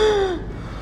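A storyteller's voice imitates a panicked wolf gasping for breath in a fairy tale, one sharp, close inhaled gasp that fades quickly into quiet.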